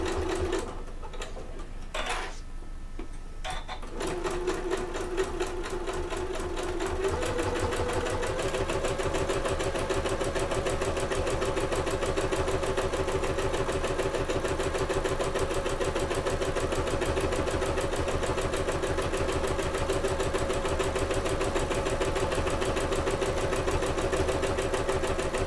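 A sewing machine stitches steadily around the corner of a fabric bag, a fast even needle rhythm running close and loud for most of the stretch after a few brief stops and starts near the beginning.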